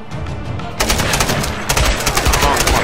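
Rapid machine gun fire in the video game Tomb Raider, a loud close burst that thickens into continuous rattling after a short lead-in, with faint voices underneath.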